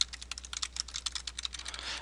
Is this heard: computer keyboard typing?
yes